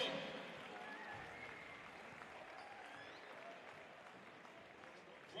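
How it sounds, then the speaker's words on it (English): Crowd applause fills an arena during a break at a BBL Championship basketball game between London Lions and London City Royals, a steady, broad wash of clapping lasting several seconds at moderate distance. "Give her a big round of applause."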